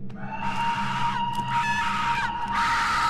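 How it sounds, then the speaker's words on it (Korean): A woman screams in pain in the horror video game Shadow Corridor, a long, loud, strained cry that breaks and resumes over a droning low backdrop. "고통에 찬 고함을 질러대는 여인이 살기를 띄우며 주인공을 쫓아옵니다."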